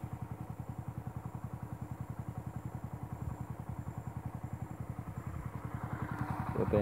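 A small motorcycle engine runs steadily nearby on a cattle pasture, its rapid even thumping pulse holding throughout and growing slightly louder toward the end.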